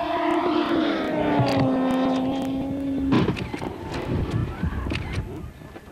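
A radio-controlled model jet aircraft flies over a field with a strong whining engine tone that holds steady and then drops away, leaving fainter rumbling and clicks.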